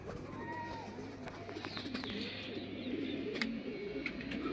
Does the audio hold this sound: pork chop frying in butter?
no